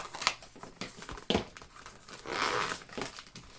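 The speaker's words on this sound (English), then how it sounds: "It is wrapped up, so I'm going to take some scissors and unwrap this." Plastic wrapping crinkles and tears as scissors open a wrapped EasyPress 2 heat press machine. Irregular close-up rustles and snips are heard alone, with one brief louder tearing burst.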